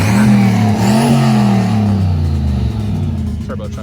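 A voice imitates a revving turbo truck engine, a low droning vocal rumble with rising and falling pitch, close and steady for a few seconds.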